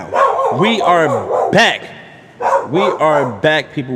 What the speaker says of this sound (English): the dog barking in the background